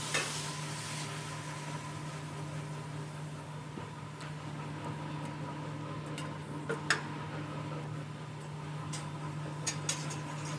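Fish stock and heavy cream simmering and reducing in a pan, a steady low bubbling hiss with a constant hum beneath and a few faint clicks and light utensil taps, with no voices.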